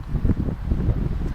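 Gusty wind buffeting the microphone at a winter campsite in the Boundary Waters, with low rumbling bursts and no voices.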